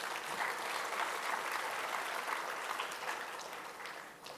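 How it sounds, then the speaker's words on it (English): Sustained applause from an audience at the valedictory session of a Youth 20 youth conference, a steady dense clapping that fills the room and fades slightly near the end. "I think we all need to give them a big round of applause."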